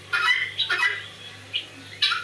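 Farm chickens make short, close squawks and clucks in a few separate bursts over a faint low hum.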